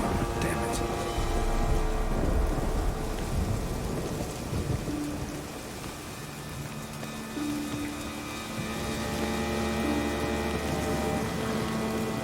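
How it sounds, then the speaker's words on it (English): Thunderstorm in The Witcher 3 video game: steady heavy rain hisses throughout with deep thunder rolling low beneath it, while faint sustained musical tones drift in and out over the storm. "Storm, damn it."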